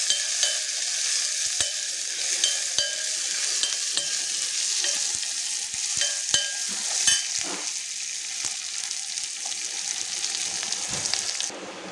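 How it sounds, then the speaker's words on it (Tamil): Small onion and curry leaves sautéing in a hot pan: a continuous crackling sizzle, close and fairly loud, punctuated by sharp spatula taps and stirs throughout. "நல்லா வதக்கிக்கோங்க."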